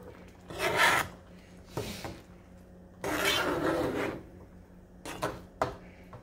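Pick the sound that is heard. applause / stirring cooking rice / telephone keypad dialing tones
stirring cooking rice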